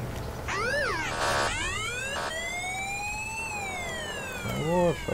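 Police siren wailing in the Spin Tires off-road driving game, rising and falling through several sweeping cycles, loud and close, with a low engine rumble underneath.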